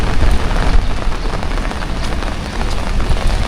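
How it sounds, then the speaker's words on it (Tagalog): Steady rain pours down outdoors at a rural spot, a dense, loud, unbroken hiss of drops drumming on surfaces, with no voices and no pauses. "Kasalukuyan na pong umuulan, no?"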